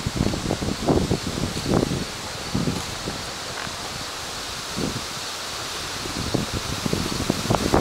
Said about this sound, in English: we're getting probably 20, 30 mile an hour wind gusts right now